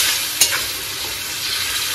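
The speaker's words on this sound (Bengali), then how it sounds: "এবার আমি এটাকে খুব ভালো করে কষাবো" Masala with garlic paste sautés in a pan, a loud dense sizzle that runs throughout, with one sharp clack of a spoon near the start.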